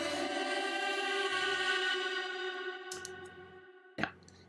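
Lush Dream Hall reverb on a sustained synth-like chord, long shimmering tail washing over the music before a sharp transient near the end, with no voices.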